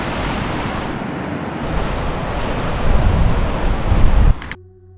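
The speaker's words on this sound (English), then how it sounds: "the waves are actually breaking over the boat a little bit" Rough surf pounds the shipwreck of the Sovereign off Cairnbulg, Scotland, a continuous loud roar of breaking waves with heavy wind buffeting the microphone, building toward the end before cutting off abruptly.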